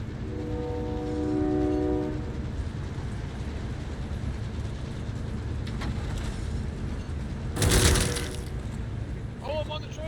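A train in a Call of Duty match rumbles past, a loud horn blasting early and a sharp metallic burst near the end over continuous rolling rail noise.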